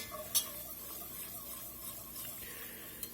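A spoon stirs a flour roux in a pot over a very hot fire, making a faint steady scraping and soft sizzling with a few small clinks.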